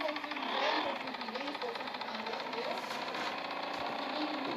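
A moped (mobilete) engine runs with a rough, continuous buzzing drone that swells slightly early on, with a voice heard over the noise.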